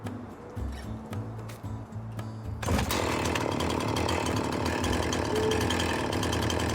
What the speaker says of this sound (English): activate the chainsaw and wait until it's gone through the entire width of the trunk